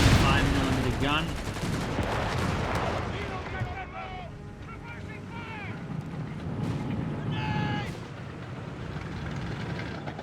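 Gunfire from the video game Company of Heroes 3 rattles in bursts and scattered shots alongside explosions and artillery, with a commentator talking over the battle throughout.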